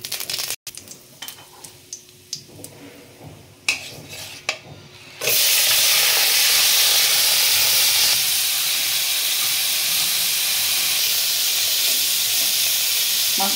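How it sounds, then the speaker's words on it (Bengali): Prawns hit a little hot oil in a pan, kicking off a loud, sudden hiss that holds steady and close for several seconds after a few quieter clinks and taps. "অল্প তেল দিয়ে আমি মাছটা সাঁতলে নেব।"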